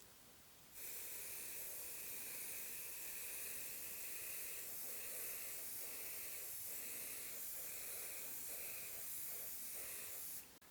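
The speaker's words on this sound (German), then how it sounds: "Aus ca. 30-40 cm Entfernung jetzt schön über die Fläche drüber sprühen." PU lacquer sprayed from an aerosol can onto a vinyl floor: one continuous close hiss that starts abruptly, holds steady for about ten seconds with slight pulsing, then cuts off.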